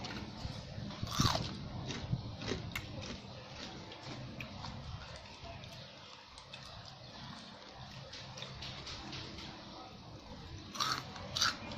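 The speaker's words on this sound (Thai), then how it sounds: "อยากให้ฟังเสียงกรอบได้ไหมมาใกล้ๆ" Close-up crunching as crisp food is bitten and chewed beside a Thai chili dip and boiled egg meal, with quiet repeated crunches and a few louder bites.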